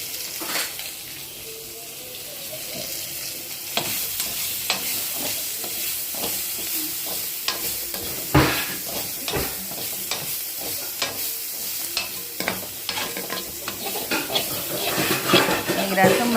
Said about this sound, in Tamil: கொஞ்சோண்டு தக்காளி, இதெல்லாம் சேர்த்து வதக்கிறோம்